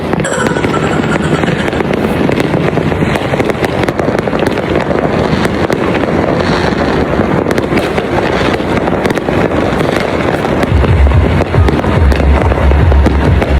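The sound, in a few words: fireworks exploding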